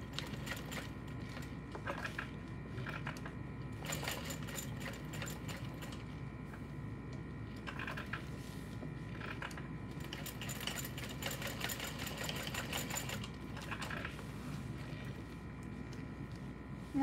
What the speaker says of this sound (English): Stitch at the end, pivoting, covering my hardware, only because the walking foot of this machine could scratch things up